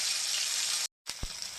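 Cut pieces of fish fry in oil with a dense hiss that cuts out abruptly for a moment, then resumes alongside a brief low thump.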